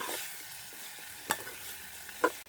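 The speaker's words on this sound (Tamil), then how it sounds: "அப்படியே இதில் பொரிஞ்சு வந்தால் சரி, உங்களுக்கு கணவாய் பிரட்டன் ரெடி ஆகிடும்." Squid fries in a pan for a village seafood dish, with a steady hiss of sizzling oil and two brief scraping knocks as it is stirred.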